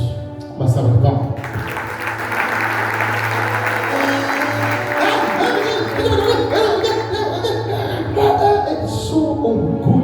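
Church congregation giving a round of applause during a sermon, clapping starting abruptly and continuing under sustained voices and shouting from the worshippers.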